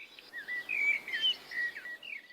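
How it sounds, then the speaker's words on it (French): A bird sings a bright, warbling run of chirps and whistles over quiet room tone, the phrases coming in short rising and falling bursts throughout the intro of a song. "Quoi de plus innocent qu'un oiseau qui chante finalement?"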